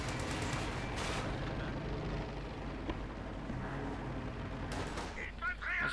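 Gunfire in the WW2 strategy video game Company of Heroes 2: dense battle noise with scattered shots and rumbling over a steady low roar, while a voice speaks over it.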